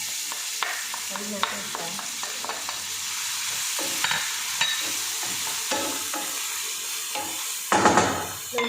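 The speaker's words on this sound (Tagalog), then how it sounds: "Nagpaprito ko ng sibuyas, onion." Onion fries in a pan with a steady sizzle, punctuated by scraping stirs and light clinks of a utensil against the pan, with a brief spoken phrase and a louder stir near the end.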